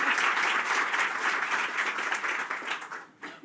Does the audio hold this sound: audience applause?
yes